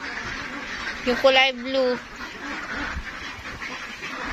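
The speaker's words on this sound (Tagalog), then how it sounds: "ito yung matatanda na pong mga itik na inaalagaan ni nanay" Ducks kept on a small goat farm give a short burst of loud, nasal quacks close by, standing out over a quieter background where someone speaks briefly.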